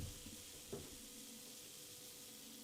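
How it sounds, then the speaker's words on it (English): A freshly poured Finlandia Sahti, an 8% Finnish farmhouse ale, giving off a faint steady fizz and hiss of slow carbonation, close up and quiet, with one small clink near the start. "You can hear it hissing and fizzing in the camera, through the microphone even"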